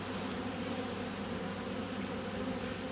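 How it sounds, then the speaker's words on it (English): Honeybees drone in a steady, continuous hum around a lightly populated hive frame lifted over the box during an autumn inspection, the buzz even and close with no voices over it. "There's not many bees on here"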